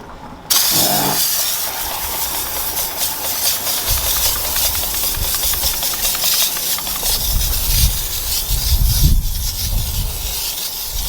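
A car wheel is washed with wheel shampoo from a foamer, giving a steady wet hiss and scrubbing rub that runs close and loud throughout with no talk.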